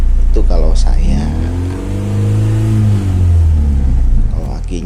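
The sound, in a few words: KIA Timor car engine revving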